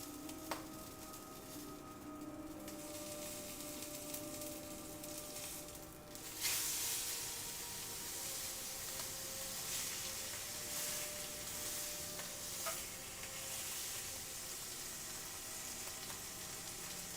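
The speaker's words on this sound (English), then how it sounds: "I'm cooking with oil initially. I'm gonna change over to butter once I've got the sear." T-bone steaks searing in oil on an induction grill, a quiet, continuous hiss that lifts a little partway through and holds steady after that, with a few faint clicks.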